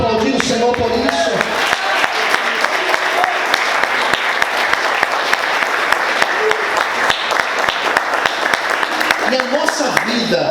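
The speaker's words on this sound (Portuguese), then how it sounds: "Você pode aplaudir o Senhor por isso?" A church congregation applauds during a Sunday morning service, steady dense clapping that carries on throughout, while a preacher's voice runs over the start and end.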